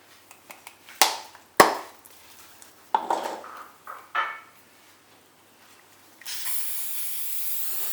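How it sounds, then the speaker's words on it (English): Spray adhesive hisses steadily from a can onto a fabric piece near the end, preceded by several sharp clatters and knocks of handling close by. "we're just gonna spray some of this on here and then stick it down to one of the fabric pieces"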